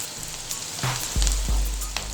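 Chopped onion and capsicum fry lightly in a pan with a soft, steady sizzle and a few crackles and low pops, no voices.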